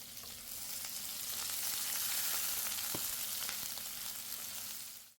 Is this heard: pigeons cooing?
no